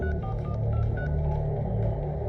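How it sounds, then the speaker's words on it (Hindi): Telephone dialing tones in a Hindi crime movie scene: a quick series of short, distinct keypad beeps over a low, steady background hum, loud and close with no talk. "फोन लगाओ"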